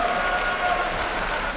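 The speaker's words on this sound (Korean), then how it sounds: "큰 박수 부탁드리겠습니다" A steady wash of crowd applause at a Black Combat fighting event, dense clapping at moderate loudness sustained without break.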